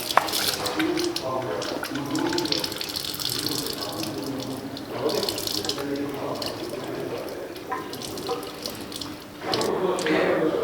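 Water drains from the tap of an Ecosoft P'ure AquaCalcium reverse osmosis filter tank, a steady close stream splashing and gurgling into a vessel with small surges throughout.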